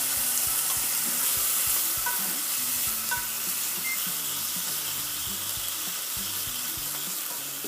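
Lonza, an Italian cured pork, fries in a pan while being stirred around, giving a loud continuous sizzle with irregular knocks and scrapes of the utensil throughout.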